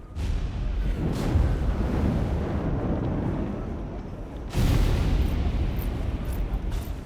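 Musket volley in Flintlock: The Siege of Dawn, a broad booming roar that fills the clip, with a second loud volley crashing in about two-thirds through, near and heavy with no speech.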